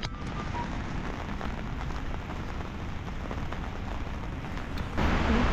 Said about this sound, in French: Là il pleut vraiment des cordes.